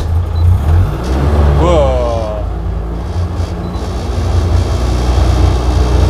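A starter whirs briefly, then the loud, rough engine of a Ford Fiesta R2 M-Sport rally car catches and rumbles steadily at idle, with a short exclamation from a nearby voice.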